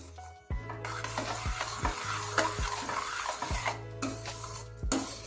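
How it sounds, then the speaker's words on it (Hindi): Lentils for a dhaba-style dal fry are stirred in a sizzling pan, with a steady background sizzle and repeated scraping strokes of a spoon against the pan, close and clear. "देखिए मैंने दाल इसमें डाल दी है।"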